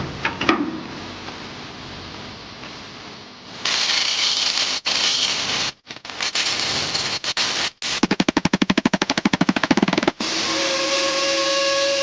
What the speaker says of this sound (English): Now, I've got no choice but to cut open the bottom of the tank and try to patch it back up properly